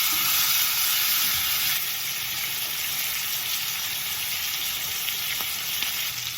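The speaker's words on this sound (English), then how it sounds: "We're gonna let these cook for a couple minutes, and then we're gonna flip it." Two pork chops fry in an oiled pan that is too small for them, giving a loud, dense, unbroken sizzle close to the mic that eases slightly partway through; nobody talks.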